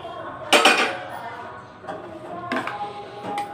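Ginger, coriander, green chilli, curry leaves and pomegranate seeds being mixed in a bowl with a spoon: a few sharp clinks and scrapes, then quieter stirring, close by with a voice talking throughout.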